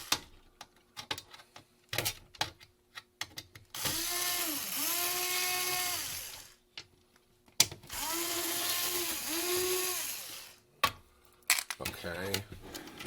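Screws being removed one after another from the bottom of a 528E audio unit, with two long whirring bursts of a powered screwdriver and clicky ratcheting handling between them, close by, as a voice talks intermittently.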